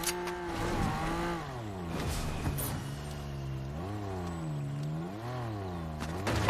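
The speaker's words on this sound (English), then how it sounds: "And then I heard a car from inside the house." A car engine in Fortnite Battle Royale drones steadily, its pitch rising and falling as it revs and accelerates, with faint clatter and distant gunfire-like pops in the background.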